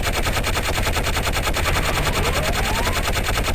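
Rapid-fire weapon shooting at a firing range in the video game Gunman Chronicles, a loud continuous burst of fast, evenly spaced shots that lasts the whole time.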